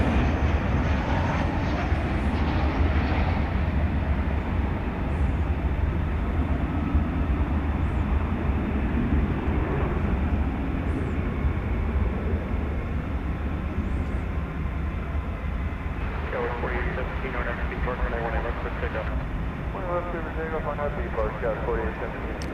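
A jet airliner takes off at night at DFW Airport, a loud, continuous engine roar holding steady for the whole stretch, with faint voices and chatter surfacing near the end.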